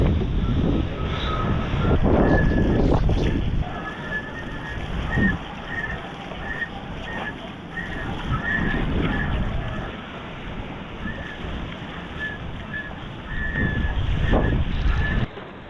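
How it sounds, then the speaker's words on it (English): Water backwash sloshes and slaps around a canoe near a wall during open-ocean paddling training, with gusty wind noise over the microphone and repeated surges of splashing, close and fairly loud. "There's already so much backwash."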